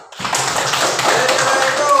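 A classroom group claps hands together in dense, continuous applause, loud and close, lasting the whole stretch with no clear pauses.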